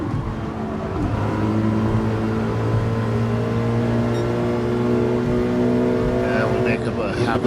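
A race car engine in Gran Turismo 7 during a manufacturer cup race, droning loudly at steady revs while slipstreaming, with a brief shift change early and a voice talking over it.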